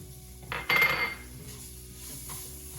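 Onion goes into a pan of sautéed rice over medium-low heat for Mexican rice, making a short, loud clatter and scrape of pan and utensil with a faint sizzle underneath, then a quieter background hum.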